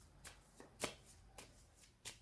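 Tarot cards being shuffled before a reading, four or five quick soft riffling bursts spaced about half a second apart, close and fairly quiet with no talk.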